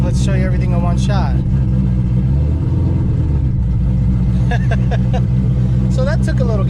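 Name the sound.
Ford Shelby GT500 engine going in reverse with trans brake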